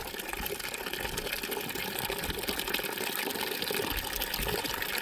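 Continuous rushing gush of water pouring into a nearly full tank on a hot 110° day, a steady broadband hiss with faint mechanical rattling underneath, no voices.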